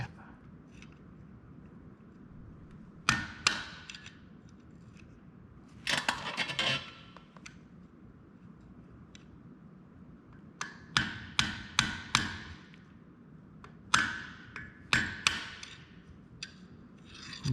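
A big bore valve stem on a wheel is tapped into place with a hammer, several separate sharp knocks and short bursts of taps spread across the clip over a quiet background.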